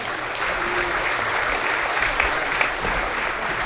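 Audience at a high school girls' game between SV and Dakota Valley applauding the game officials, a steady, dense round of clapping from a full gym crowd that holds at an even level throughout.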